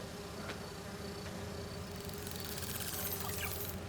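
Virtual bee wolves, a kind of wasp, in Spider-Man 2, giving off a steady insect buzz that stays fairly faint and constant, with thin higher whirring toward the end.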